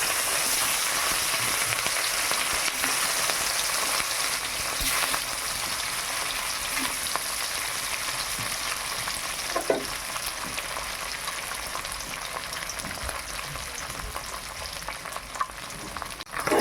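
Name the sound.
frying katla fish pieces in a pan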